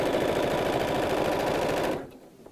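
A sewing machine stitches two fabric edges together in a fast, steady mechanical chatter, close and loud, then stops abruptly near the end.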